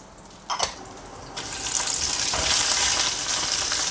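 Garlic cloves, cumin and red and green chillies sautéing in a pan for arai keerai chutney, a couple of sharp stirring clatters followed by a rising, steady close sizzle.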